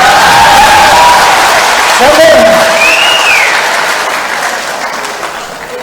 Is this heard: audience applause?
yes